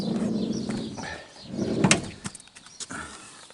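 The sliding side door of a Ford Transit van rolls open with a rumbling slide that peaks in a sharp metallic clunk, followed by a few softer knocks and rattles, nearby and moderately loud.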